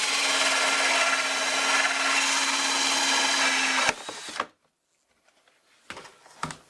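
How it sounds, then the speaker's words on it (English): A power drill whines loudly and steadily for a few seconds, drilling holes in a worm bin, then stops; brief clunks and handling noises follow. "So I'm going to drill out my 3 holes, 4 holes actually"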